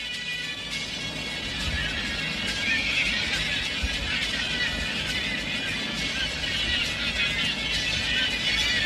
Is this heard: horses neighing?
yes